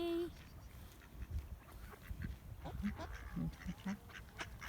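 Ducks quack repeatedly near water, several short nasal calls clustered in the second half, with faint human voices and outdoor noise in the background.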